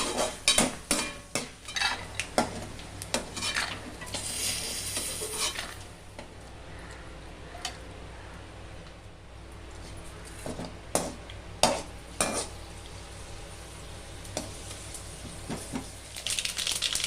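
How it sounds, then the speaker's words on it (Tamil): Mustard and fenugreek seeds tempering in a pan for kuzhambu, a low sizzle under frequent sharp metallic clinks and scrapes of a spoon against the pan, busier at the start and end. "கடுகு போட்டிருக்கோம்னா வெந்தயம் போட்டிருக்கேன் பாருங்கள் குழம்புக்கு"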